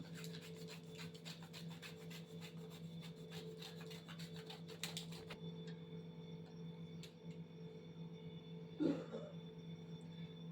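Cadbury Dairy Milk chocolate is grated in quick, rhythmic rasping strokes for about five seconds, close and quiet, followed by a soft low hum and a brief clunk.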